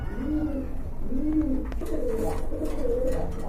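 A pair of large racer pigeons coo in a repeated, soft rolling rhythm, close and clear, with several low phrases following one another and no talk over them.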